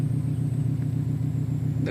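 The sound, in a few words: Subaru 07 STI reversing as clutch engages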